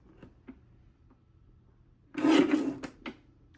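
Paper trimmer blade sliding through cardstock during card making, a short rasping cut of about a second, preceded and followed by faint taps and handling clicks.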